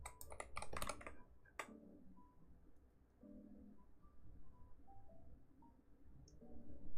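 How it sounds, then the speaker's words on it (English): A short burst of quick clacky keystrokes on a computer keyboard is heard near the start. Faint tonal chirps and a low background hum follow. "Keyboard sounds so good."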